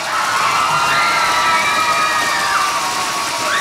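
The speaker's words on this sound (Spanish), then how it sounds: "¡Fuerte el aplauso!" Event audience cheering and shouting with whoops and high voices, loud and continuous, with a sustained crowd roar filling the whole stretch and no clear talk on top.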